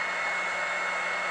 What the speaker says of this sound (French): C'est un petit truc d'action hein, qu'on a, hein, un petit sèche-cheveux.